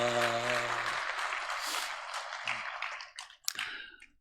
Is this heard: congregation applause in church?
yes